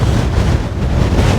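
Strong wind at Aberlady Bay buffets the microphone in a loud, gusty low roar that fills the whole brief moment, with no speech.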